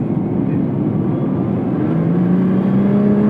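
A 2017 Nissan GT-R accelerating hard on a test-drive road, heard from inside the cabin as a loud, steady engine roar with a rising tone toward the end.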